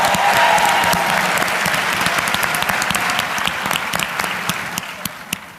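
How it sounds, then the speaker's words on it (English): A crowd claps steadily, loud and dense at first, then gradually thinning and fading toward the end. "So can y'all give them another round of applause"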